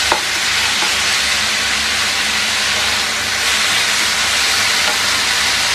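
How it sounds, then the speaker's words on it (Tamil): Chicken for shawarma sizzles and fries steadily in an open pan while being stirred, a loud continuous hiss with occasional scraping throughout. "நீங்கள் நல்லா அப்படியே திறந்து வச்சே கலந்து கலந்து கலந்து விட்டு நல்லா வேக வச்சுருங்க"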